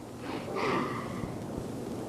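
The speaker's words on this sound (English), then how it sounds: "will you stop sniffling the flowers" A single close, breathy sniff at flowers, a quick nasal inhale with a faint snorting edge, alone in a quiet room.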